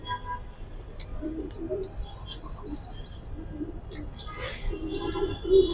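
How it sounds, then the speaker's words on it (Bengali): Silver makhra pigeons coo softly in cages nearby, with low repeated coos and a few scattered chirps over a quiet room background. "এখানে অনেকগুলো কবুতর আছে"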